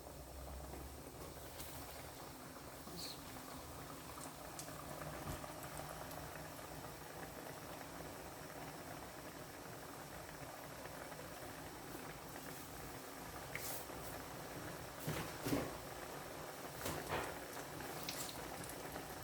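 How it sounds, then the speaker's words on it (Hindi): Potato smilies fry in hot oil over a medium flame, giving a steady, dense bubbling sizzle throughout with a few slightly louder crackles near the end; no one speaks. "इनको डाल देती हूँ। तेल गर्म हो चुका है, मीडियम आंच पे आपने तेल रखना।"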